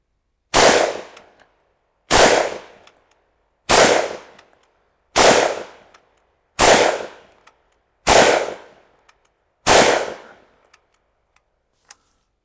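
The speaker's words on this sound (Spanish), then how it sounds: "probemos algunos disparos." Seven sharp, loud rifle shots from a Soviet SVT-40 semi-automatic rifle, fired one at a time at an even pace about a second and a half apart, each with a short echoing tail, followed by a faint metallic click.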